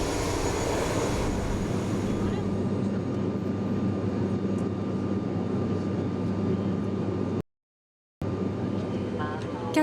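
A steady droning engine hum fills the cabin of an aircraft in flight to Papeete, Tahiti, with a brief dropout of silence near the end.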